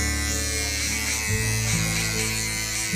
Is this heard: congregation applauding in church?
no